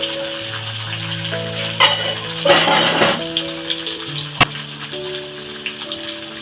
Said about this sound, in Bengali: হচ্ছে কাজু কিশমিশটা দিয়ে দেবো খুব বেশি কিন্তু ভাজা ভাজা হবে না